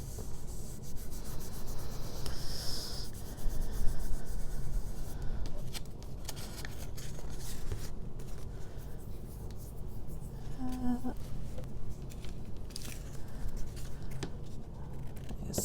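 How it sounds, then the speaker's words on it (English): Paper rustling and scraping with intermittent snips of scissors trimming paper to shape, close up and fairly quiet, with brief handling noises in between. "Scissors out and just trim this to shape."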